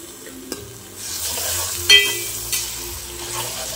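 Onions with turmeric fry in a pan with a soft, steady sizzle, broken by a few close clinks and scrapes of a spoon stirring against the metal. No one speaks.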